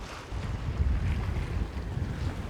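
Strong wind rushes loud and constant across the microphone aboard a sailboat at sea off Martinique, with a low rumble of water beneath and no voices.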